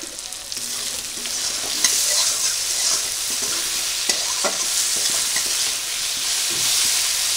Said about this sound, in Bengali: একসঙ্গেই দিয়ে আমি ভালো করে কষিয়ে নেব